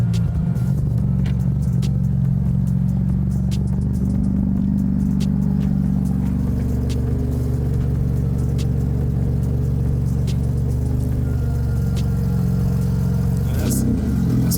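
A BMW F80 M3 with a Mad Max exhaust idles with a loud, deep rumble close by, rising and settling as the engine is revved, while people talk over it.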